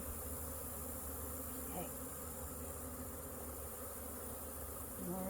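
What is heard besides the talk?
honey bees buzzing during hive inspection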